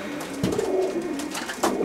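Racing pigeons from an old-bird team coo inside a loft in St. Paul, Minnesota. Low, throaty rolling coos repeat close by in soft overlapping phrases, with a fresh coo rising near the end.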